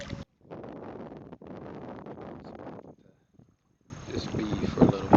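Gusty wind at a campground in Indian Lake State Park, Ohio, buffets the microphone in rumbling bursts, broken by brief near-silent gaps, then a louder crackling rush.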